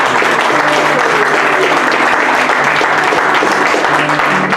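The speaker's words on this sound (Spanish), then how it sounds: "Dale un aplauso al Señor." A church congregation applauds at a Spanish-language service, a loud, dense, continuous clatter of many hands with no break.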